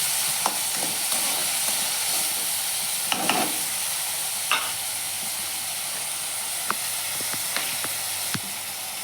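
Capsicum and onion stir-fried in a pan for a stuffed paratha filling: a steady, close sizzle of frying with repeated scraping clicks and taps of a spoon stirring against the pan, no voices.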